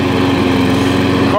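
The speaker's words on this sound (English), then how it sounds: "This is the lawnmower I showed y'all last week." An older petrol lawn mower runs steadily after carburetor cleaning, a loud, close, even engine drone with a rapid regular pulse and no pauses.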